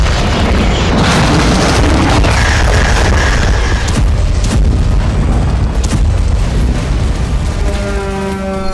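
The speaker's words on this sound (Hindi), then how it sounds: "ये रूस के 500 किलो वजनी फाब 500 बम का हमला है।" A Russian 500 kg FAB-500 bomb exploding during an attack on Kharkiv, a loud, sustained roaring boom with rumbling and crackling bursts filling the whole stretch, very close and overwhelming.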